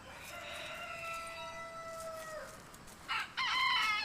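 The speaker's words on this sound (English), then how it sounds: "Small chickens." A small rooster crows one long drawn-out cock-a-doodle-doo at moderate distance over quiet outdoor background, followed by a few short clucks or calls near the end.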